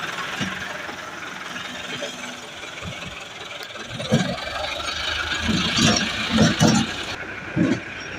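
A tractor engine runs at a bypass road construction site, idling with a rough, uneven rumble under ambient outdoor noise, with a few louder thumps and bursts near the end.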